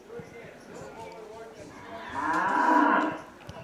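A cow moos in the background at a high school baseball game, one long, drawn-out call swelling midway and fading out, distant but clear over low ambient ballpark noise.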